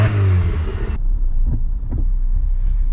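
A Peugeot 205 GL's engine roars through its small exhaust, loud and close for about a second, then drops away abruptly into a low rumble with faint knocks and wind noise.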